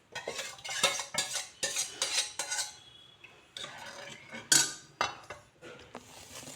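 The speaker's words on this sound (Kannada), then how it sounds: "ಅದನ್ನು ಒಳ್ಳೆ ಸ್ಮ್ಯಾಶ್ ಮಾಡ್ಕೊಂಡು ಚೆನ್ನಾಗಿ ನುಣ್ಣಗೆ ಮಿಕ್ಸ್ ಮಾಡ್ಕೊತಾ ಇದ್ದೀನಿ" A spoon stirs and mashes cooked lentils and tomato in a metal pot, with repeated scraping clinks against the sides in an uneven rhythm and a sharper clank midway, close and fairly loud with no talking.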